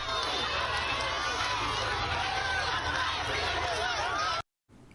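An outdoor crowd in Mali cheering and chattering excitedly as the president greets them, a dense, loud babble of many voices and shouts that cuts off abruptly near the end.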